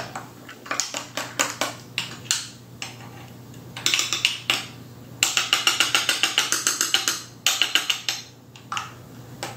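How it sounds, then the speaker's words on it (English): Powdered garlic substitute whisked briskly in a bowl: quick, rhythmic clinks and scrapes of a utensil against the sides, coming in close, loud bursts with short pauses between. "So now, all we do is mix this one up very well"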